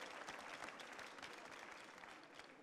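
A conference audience applauds sponsor Michel Rouchaud, sales director of Ravi Fruits, at the 2015 Coupe du Monde de la Pâtisserie, a steady, dense wash of many hands clapping, heard faint and distant throughout.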